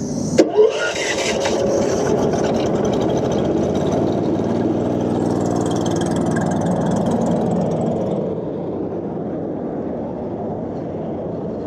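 An old Predator wood chipper's engine runs at a steady, loud drone, with its hydraulics running hot. A brief clatter at the start is followed by continuous mechanical rumble that holds nearly unchanged throughout.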